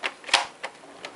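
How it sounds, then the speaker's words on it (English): Plastic laptop part on a Toshiba A665 snapping into place during reassembly: four sharp, close clicks spaced unevenly, one slightly louder than the rest, with quiet between them. "Snap that right in here."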